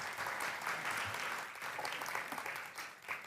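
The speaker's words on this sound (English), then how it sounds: "Round of applause." A conference audience at a women-in-tech event in Riga claps in a dense, even wash of applause that holds steady for a few seconds.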